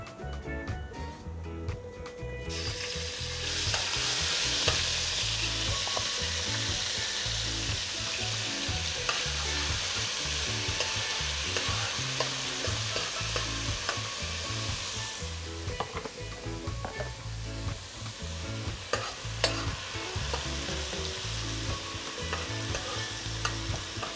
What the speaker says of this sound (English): Let it fry up a little bit until it starts to turn a little brown, slight brown